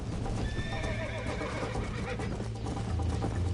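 A horse in Red Dead Redemption gives a loud, close whinny over steady clip-clopping hooves that continue throughout the short stretch.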